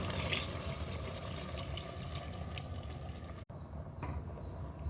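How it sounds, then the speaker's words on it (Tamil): Steady rushing of water poured from a tumbler into a cooking pot for biryani, continuous and close, with a brief break near the end before the flow resumes. "இதுலேயும் ஒரு 5 டம்ளர் தண்ணி ஊற்றுறேன்"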